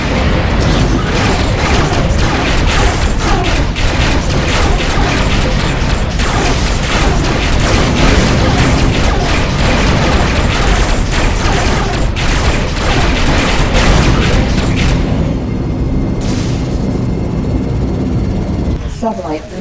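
Scatter turret and broadside cannon fire from a spaceship in the space combat game Rebel Galaxy, a dense, loud, continuous barrage of rapid booming shots with game voices calling out over it, easing off near the end.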